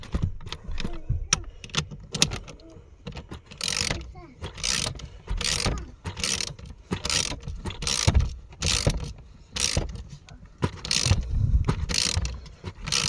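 A ratchet wrench tightens the battery terminal on a VW Touareg in a series of close, quick clicking bursts with short pauses between strokes.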